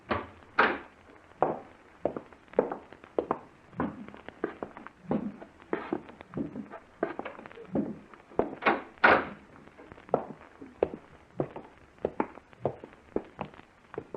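A back door opens and closes as a radio drama sound effect: a series of knocks, thuds and clicks, with shuffling steps between them, fairly close and moderately loud, and no one speaks over it.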